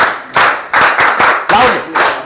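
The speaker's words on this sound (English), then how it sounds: "Everybody clap hands or give applause together" A school group at a student presentation claps in loose unison, about six loud, booming bursts of many hands striking together, with voices calling out between them.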